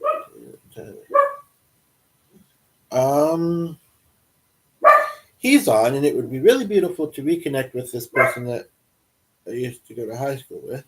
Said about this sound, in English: Sorry about the noisy dog.